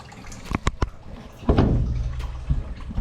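Water bursting into newly plumbed PEX pipes in a shed, a few sharp clicks and knocks first, then a sudden rushing, hissing flow that runs on steadily and close by.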